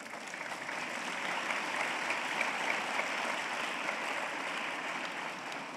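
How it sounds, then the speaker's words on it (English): Steady audience applause at a large centenary celebration gathering for Sri Sathya Sai Baba, a dense even wash of clapping held at moderate level for several seconds with no clear voices. "Come on, clap."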